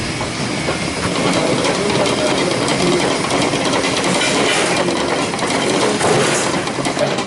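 Mixing machine in a bakery churning sfogliatella dough, a loud continuous mechanical rumble and clatter with a rhythmic grinding texture that holds steady throughout.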